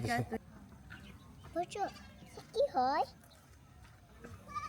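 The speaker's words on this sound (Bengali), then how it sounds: "এটা আয়াতের ছাগল" A goat bleats a few times in short wavering calls, fairly close, with quiet background noise and a brief voice at the start.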